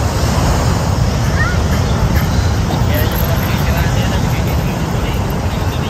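Ocean surf rolling onto a surfing beach, a steady loud broadband wash of breaking waves with wind buffeting the microphone throughout.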